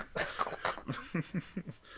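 A string of short, close coughs and throaty bursts, several in quick succession, fairly quiet and uneven in rhythm.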